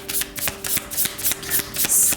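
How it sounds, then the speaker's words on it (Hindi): Tarot cards being shuffled in steady, repeated riffling bursts, close and fairly loud, with no talking. "तो चलिए शफल कर लेते हैं स्कॉर्पियो वृश्चिक राशि के लिए।"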